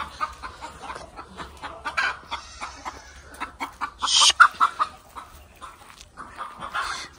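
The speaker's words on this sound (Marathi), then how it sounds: "कोंबड्या बाहेर गेले, त्यांना मला आत हाकलून द्यावं लागेल" Chickens cluck in quick, uneven bursts close by outside a goat shed on a small farm. One sharper, higher squawk rises partway through the clucking.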